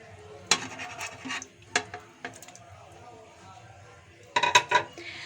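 Cut paneer added to a shahi paneer gravy in a pan and stirred, with a few clinks and scrapes of a spoon against metal, a quiet gap, then a cluster of clattering strokes, no voices.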